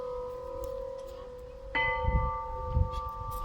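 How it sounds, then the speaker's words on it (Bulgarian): Bells ring with clear sustained tones; one bell fades before a second, brighter strike layers new ringing tones over it, with low rumbling underneath. "Няколко камбани."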